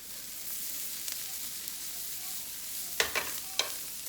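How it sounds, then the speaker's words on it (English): A soft, steady sizzle of gram flour frying in a pan, broken near the end by a few quick scraping stirs. "cooking off the besan, just so it becomes nice and crisp"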